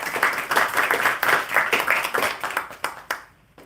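An audience at a bookstore reading applauds, a small crowd's brisk, uneven clapping with distinct individual claps, close and fairly loud, thinning out and fading to a few last claps at the end.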